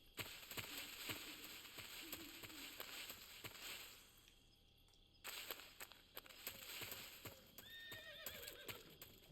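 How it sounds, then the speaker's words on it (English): A white horse whinnies within the Metal Gear Solid 3 game world, set over a dense jungle ambience of insects and rustling, with clip-clopping hooves and a sharp, high neigh rising clearly toward the end. "Why can I hear a horse?"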